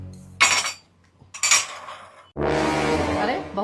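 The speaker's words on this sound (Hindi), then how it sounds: "अरे बहू तू इधर, तो बर्तन कौन धो रहा है?" Dishes and cups being washed at home, with clattering and clinking of crockery in two short bursts, then a sustained voice-like tonal sound over the clatter.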